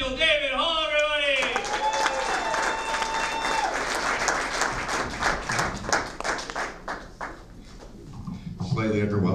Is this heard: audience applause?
yes